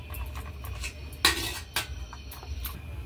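Prawns being mixed with spices in a bowl, a few clinking knocks of a utensil against the bowl over a soft low background, close and without voices.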